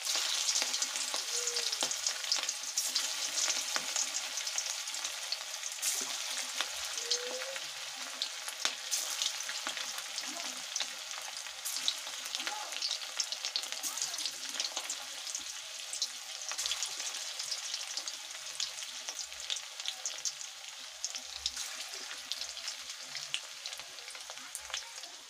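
Fish balls for a fish kofta curry frying in hot oil produce a steady, fine crackling sizzle dotted with tiny pops, fairly soft and close, with no talking over it.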